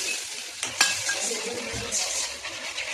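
Cumin, asafoetida and curry leaves sizzle in hot oil, a steady broad frying hiss with a few sharp spits and clinks near the start, close and moderately loud, with no talk.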